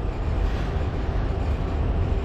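Steady rumble inside a moving train carriage, a continuous low roar of wheels and rails with no talking.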